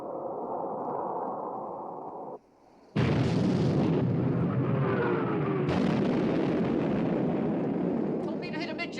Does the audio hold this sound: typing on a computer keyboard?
no